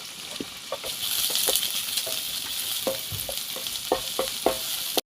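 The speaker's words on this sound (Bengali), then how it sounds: "রসুন কুচি দিয়ে হালকা একটু নাড়াচাড়া করে এদিকে দিচ্ছি পেঁয়াজ।" Chopped garlic and onion frying in hot oil with ginger as a steady sizzle, broken by a string of scraping stirs against the pan, close and fairly loud throughout.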